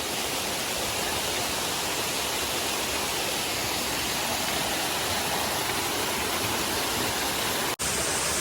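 A waterfall pours steadily in a secret forest spot, a loud, continuous broadband roar of falling water filling the whole stretch without a break except for one tiny dropout near the end.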